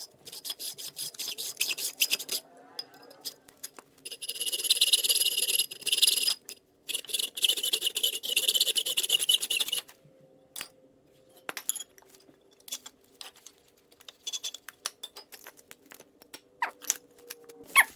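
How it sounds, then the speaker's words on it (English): Rhythmic rasping strokes of a simple hand saw biting into metal dirt bike parts, coming in long steady runs with brief pauses and occasional light clinks. "this is just the saw I'm going to be using. It's just a simple hand saw."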